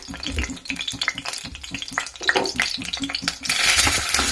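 Onions and curry leaves frying in oil in a pan for a Goan Konkani prawn-style curry, with a steady close sizzle, stirring scrapes and utensil clinks against the pot.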